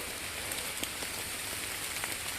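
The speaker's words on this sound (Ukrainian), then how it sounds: "Дощара вже задовбала просто" Heavy autumn rain falls steadily outdoors near old wartime trenches, a faint, even hiss of drops pattering on surfaces with a few soft ticks.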